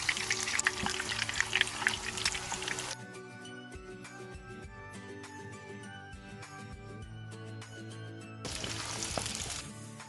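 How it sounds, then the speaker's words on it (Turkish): Meatballs sizzle steadily in hot oil, with a loud crackling hiss at the start and end and quieter frying in between over a faint hum. "Az yağda kızartıyorum."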